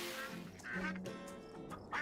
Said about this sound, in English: These ducks are really giving all their quackers